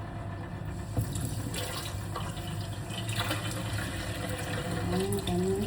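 Water running from a tap while fish are being bathed, a steady splashing flow up close with a faint low hum beneath and a voice briefly heard near the end.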